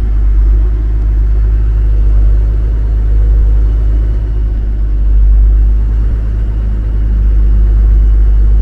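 Truck engine driving across a sloping sand bank on an off-road trip, a loud steady low rumble that holds throughout with slight swells, no talk.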